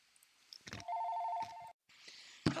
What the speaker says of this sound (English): My phone rang and I didn't know what it was